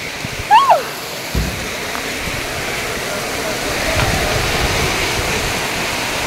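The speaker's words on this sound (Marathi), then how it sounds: "तर पाऊस बी यायला लागलाय" Rain falls heavily outdoors in a village, a loud, continuous rushing wash of water with a brief voice-like sound near the start and a thud shortly after.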